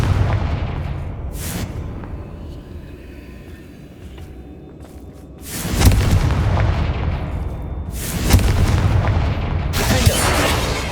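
Fire spell explosions from the video game Hogwarts Legacy boom in several heavy, rumbling blasts spaced apart, loud and close over a low background rumble.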